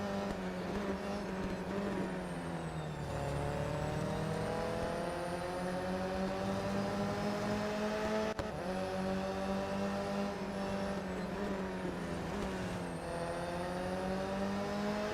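A race car engine in the Real Racing 3 video game drones steadily, its pitch climbing through gears with repeated rises and drops as the car accelerates, continuous and fairly quiet throughout.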